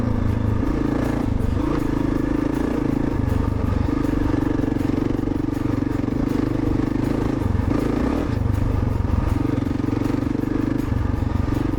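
A 2010 Kawasaki KLR650 with upgraded suspension is ridden over hills and small jumps, its single-cylinder engine droning loud and steady throughout, with slight rises and dips in pitch and some rattling and wind noise.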